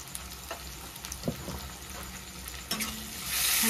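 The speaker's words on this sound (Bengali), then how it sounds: "ভালো করে মিশিয়ে নেব গুঁড়ো মশলাগুলো।" Ground cumin, chili and turmeric powders are stirred into paneer frying in a pan: a steady close sizzle broken by scraping stir strokes, with the hiss swelling louder at the end.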